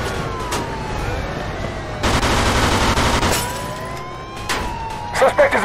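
Gunfire in the video game Mafia 2, bursts of shots ringing out over a busy backdrop of game effects and engine-like noise, growing denser partway through with sharp cracks near the end, voices mixed in.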